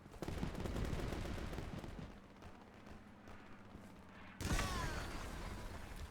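Dense gunfire crackles from several directions in the World War II shooter Easy Red 2, near and far bursts overlapping into a steady rattling barrage with low rumbling booms, swelling louder near the end with a sharp, whining streak.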